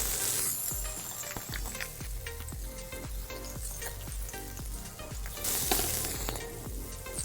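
Onions frying in oil in a home kitchen pan while braised moringa is cooked, a steady close sizzle with scattered small crackles and occasional clinks of a utensil.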